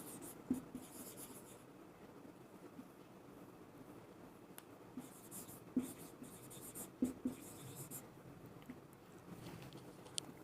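Chalk or a marker taps and scratches across a board as a chemistry equation is written, faint strokes in irregular bursts over a quiet, steady room hum.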